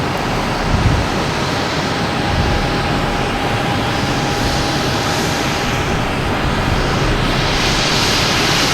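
Alaska Airlines Boeing 737-800 taking off at Boston Logan, a loud, steady broadband engine roar like rushing wind that fills the whole stretch without letup.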